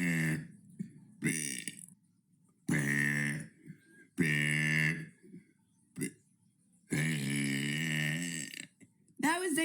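A string of loud, drawn-out human burps, one after another with short silent gaps between them, some long and deep, others brief and clipped, close and isolated with no talking.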